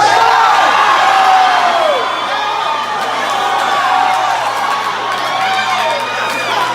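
A church congregation at a Memphis convocation screams and cheers loudly, a dense, sustained roar of many voices with whoops and shouts rising and falling throughout.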